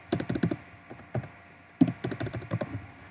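Typing on a computer keyboard at close range, clusters of quick clicking keystrokes separated by short pauses, fairly loud and without talk.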